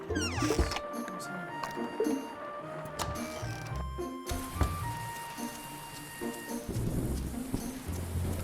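Steady rain hiss in the farming game Grimshire, with a thunder-like rumble, fairly loud and continuous behind scattered game chimes and tones.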